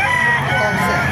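Roosters and hens at a bustling open-air fowl market in Bocaue, a loud close crow ringing out over crowd chatter.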